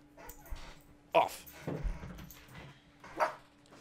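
A dog at home whimpers and gives a few short, yelping barks for attention while a person talks nearby.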